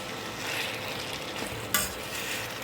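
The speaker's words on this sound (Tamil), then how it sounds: "இந்த டைமில் நான் ஆல்ரெடி வாஷ் பண்ணி வச்சுருக்க 1/2 kg சிக்கன் சேர்த்துக்கிறேன்" Half a kilogram of washed chicken stirred in a kadai with garlic, frying in a steady close sizzle with scraping stir strokes and one sharp clink midway, no voices.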